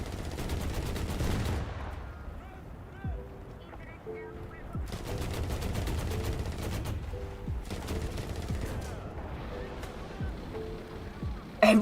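Rapid bursts of automatic gunfire in War Thunder ring out across a vehicle battle, several clustered volleys of sharp shots separated by short pauses, moderately loud over a rumbling background, with someone talking between them.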